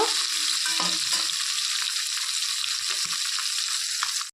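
Bata fish, four at a time, fry in hot oil with a dense, steady sizzling hiss that stays loud and close throughout before stopping abruptly at the end.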